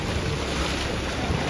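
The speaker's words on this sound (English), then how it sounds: "that was the thundering rock, which kind of sounded more like a splash" Sea waves surge and splash against the rocks at Thunder Hole in Acadia National Park, a continuous loud wash of water with wind noise on the microphone.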